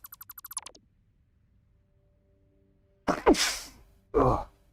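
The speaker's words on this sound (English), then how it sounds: "Uh-oh, excuse me, I'll get a sneeze." A close, loud sneeze bursts out after a few seconds of near silence, followed moments later by a second short, forceful burst; a quick run of electronic chirping beeps comes before it.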